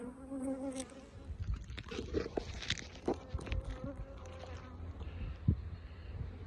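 Honeybees from a swarm buzz steadily around a poly hive box at an apiary, a dense continuous hum close by with scattered handling knocks and rustles.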